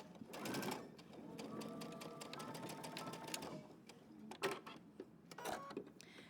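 Sewing machine back stitching a pleat on a shirtdress: short bursts of fast mechanical stitching, a longer run followed by brief stops and starts, close and fairly quiet.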